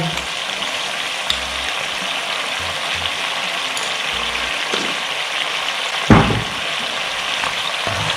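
Tomato sauce seasoned with soy sauce, seasoning sauce and sugar simmering in an electric rice cooker, a steady close bubbling hiss throughout with one brief louder clatter near the end.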